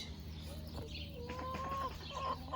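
Backyard chickens cluck softly nearby in a few short, quiet calls over a faint background hum.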